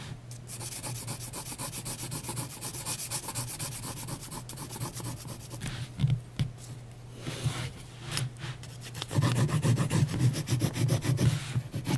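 A graphite pencil scratches and rubs over 300 gram paper in close, continuous strokes, with brief pauses and a louder, denser stretch of shading near the end.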